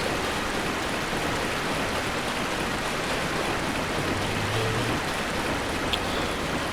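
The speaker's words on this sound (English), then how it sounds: "Tread through this really loud water." In the Dark Souls video game, a character wades through loud water, producing a steady, dense rushing and splashing that fills the whole stretch evenly and sits close and loud with no speech.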